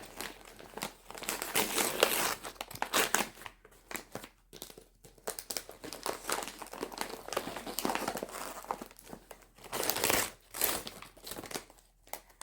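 Close crinkling and crumpling of taped wrapping paper being pulled off a gift of travel cups, in irregular bursts with short pauses, fairly quiet and with no talk.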